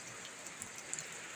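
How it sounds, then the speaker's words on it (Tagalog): Heavy rain during a typhoon, pouring steadily outdoors as floodwater rises at a home, a faint, even hiss with a few scattered louder drops and no voices. "Grabe po ang lakas ng ulan."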